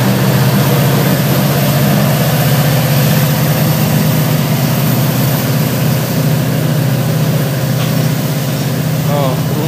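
A Florida East Coast diesel locomotive blowing smoke rumbles with a loud, deep, steady engine drone that stays close and unbroken throughout.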